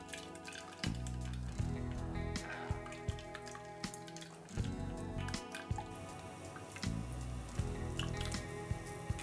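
Pineapple and coconut juice drips and trickles through a sieve in a steady patter of small liquid drops, with a low hum running underneath throughout.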